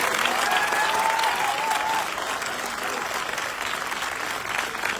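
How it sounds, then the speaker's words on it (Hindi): An audience at a public event in Patna, Bihar claps heartily in a sustained, even roar of applause, and a faint voice drifts over the start. "दिल खोल के ताली बजाएंगे।"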